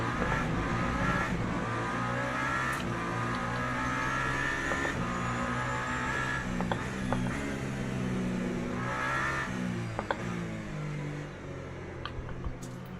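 A hypercar engine racing in the Le Mans Ultimate game, a loud continuous roar that rises and falls through revving and gear changes, with no talk over it.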